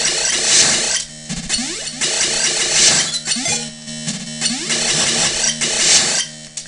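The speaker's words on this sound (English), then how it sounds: "That nice little sound you're hearing is the sound of me low on health." Low-health warning beeps from the video game Metroid 2 repeat in regular bursts, mixed loudly with busy game music and sound effects, with no talking.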